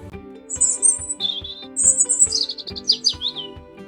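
A robin sound effect for a children's spring story read aloud: bright, close chirping and warbling phrases in quick bursts over soft background music, with no speech.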